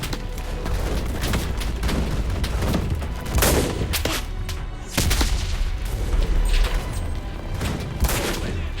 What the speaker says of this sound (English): I personally didn't notice any footstep sounds while playing due to the large amount of gunfire and explosions going on around me